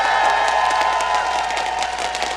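At a League of Legends esports match between Saigon Jokers and Dignitas, a large arena crowd cheers and whoops steadily, a loud dense roar with scattered shouts running throughout.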